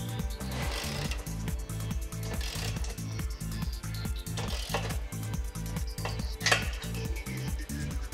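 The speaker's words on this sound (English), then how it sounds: "Then also tighten the retaining screws with a size 17 socket." A ratchet and size 17 socket tighten retaining screws on a TWIN BUSCH TW X-36 tyre changer, producing a fast, regular clicking rhythm of metal on metal, close and steady, with no speech.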